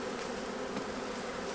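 Honey bees buzzing at an open hive during a January inspection, a dense steady drone close up that holds at even loudness throughout, with no talking.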